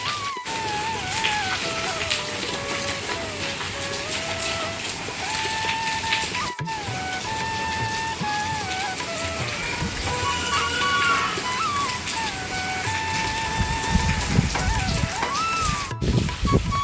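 Rain falls around an outdoor wood-fired clay stove, a steady close patter and hiss that lasts throughout, with a faint wavering tone above it and low rumbling near the end.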